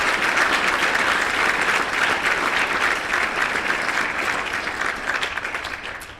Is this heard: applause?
yes